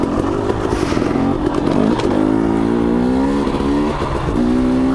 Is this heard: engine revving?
yes